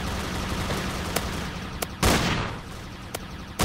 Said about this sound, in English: The Mars Blaster is one of my favorite guns.